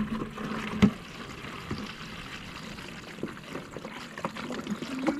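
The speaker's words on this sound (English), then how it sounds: "I'm gonna clean the bucket actually first." Cold water pours and trickles into a plastic bucket being rinsed outdoors in cold weather, a steady low splashing wash with a few louder sloshes, no voices.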